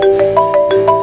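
A phone ringtone plays loudly and steadily, a repeating electronic melody of short, evenly spaced pulses with no talking.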